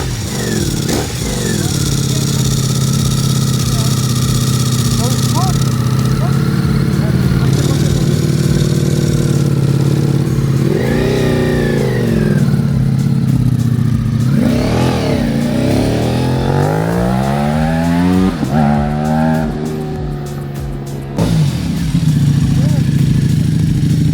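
A Ducati Multistrada V4 RS motorcycle engine runs close and loud, idling with a deep burble and then revving repeatedly, its pitch climbing and falling in several sharp sweeps, while people talk over it.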